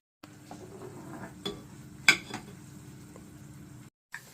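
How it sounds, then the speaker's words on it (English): Onion being stirred into tomato-paste spaghetti sauce in a pot, giving a soft, steady wet simmering texture with a few light spoon knocks against the pot and one sharper clink midway. "Now we stir everything together."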